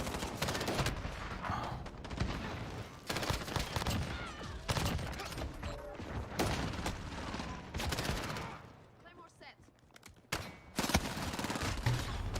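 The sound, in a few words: gunfire in Modern Warfare video game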